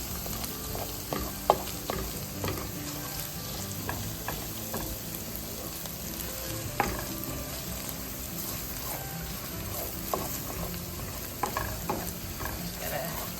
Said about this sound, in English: You're gonna wanna almost stir constantly until this is darkened